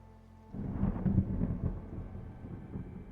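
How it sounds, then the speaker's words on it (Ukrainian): Thunder rumbling in the video game A Space for the Unbound, a deep rolling boom that swells in suddenly and lingers as a low, steady roar. "Це блискавка чи це комета так?"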